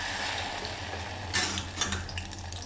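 Egg frying in oil in a pan, a steady soft sizzle throughout with faint scraping or stirring near the middle and end, no talk.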